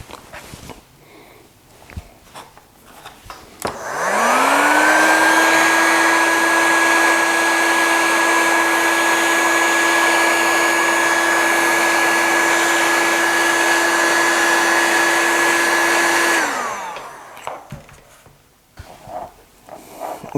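A power drill bores a hole while mounting a power setup inside a Bambu Lab X1 Carbon 3D printer. One loud, steady motor whine spins up, holds for about twelve seconds and winds down, with faint handling noises before and after.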